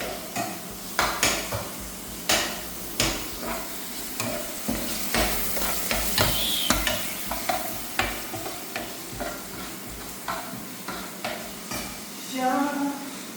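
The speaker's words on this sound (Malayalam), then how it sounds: "അപ്പൊ നമ്മള് സവാള വഴറ്റിക്കൊണ്ടിരിക്കുകയാണ്" Sliced onions sauté with a little salt in a pan, with a rhythmic series of spatula scrapes and knocks against the metal over a constant close sizzle.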